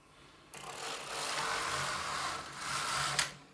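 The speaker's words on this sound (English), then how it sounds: "Regular knitting, stitch size 1." A Singer double bed knitting machine knits alpaca yarn at a regular stitch, its carriage sliding across the needle beds in one close, steady mechanical whir lasting a few seconds and ending with a click.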